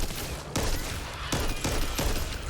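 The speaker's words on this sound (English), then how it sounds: "The fact that the guy's using a sniper rifle to shoot one zombie at a time" Sniper rifle shots fired at zombies one at a time in the video game Back 4 Blood, with about five loud, sharp reports at irregular intervals over a constant noisy background.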